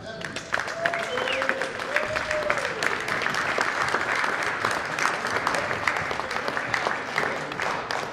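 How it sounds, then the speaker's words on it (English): Steady crowd applause for a senior wrestler being honored at a high school wrestling senior night, dense clapping sustained throughout with a few cheers and a voice briefly rising over it. "Big round of applause for Devin, guys."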